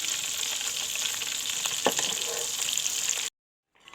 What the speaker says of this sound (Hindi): कबाब फ्राई हो चुके हैं।